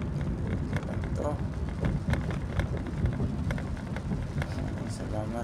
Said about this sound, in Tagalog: Ulan nga dito